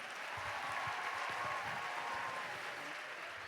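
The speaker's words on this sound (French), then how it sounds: "Bravo, vous pouvez vous applaudir, vraiment." A hall audience applauds after a choir's a cappella national anthem at a closing ceremony, a dense, steady wash of clapping that stays loud and even throughout.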